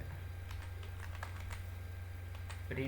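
Someone types C code, an if-else statement, on a computer keyboard, making a few soft, quiet, scattered clicks over a low steady hum.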